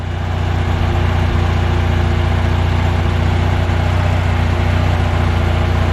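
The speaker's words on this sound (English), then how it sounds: "engine test cell running at a fast RPM, fast tick over" A 1980 VW engine with a freshly overhauled Solex PICT 34 carburetor runs at a fast idle on a test cell, giving a loud, steady, continuous drone with a low rumble and even ticking throughout, with no voices.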